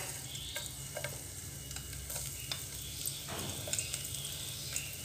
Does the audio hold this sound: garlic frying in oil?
yes